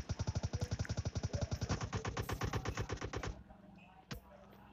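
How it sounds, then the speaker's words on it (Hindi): Rapid automatic gunfire in PUBG Mobile Lite fires a long, even burst of sharp shots that cuts off abruptly, followed by one lone shot. "इसको मैंने 5-6 बॉडी शॉट और एक हेड शॉट दिया था"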